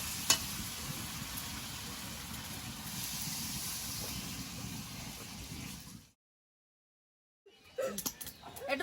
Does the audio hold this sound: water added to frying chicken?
yes